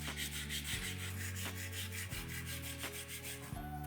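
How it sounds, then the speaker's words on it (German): A bicycle brake pad rubbed flat on sandpaper laid on a level surface gives repeated scraping strokes in a steady back-and-forth rhythm, close and moderately loud, with no talking. "Mit der Bremsfläche einfach voran, Schmirgelpapier auf eine ebene Fläche gelegt, das Ganze schön abtragen."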